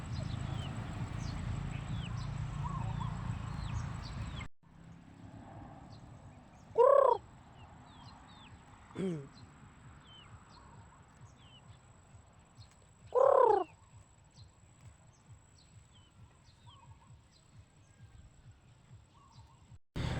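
Poultry calls out a few times in a quiet outdoor setting, with two louder squawking bursts and faint background chirps after a rumbling start.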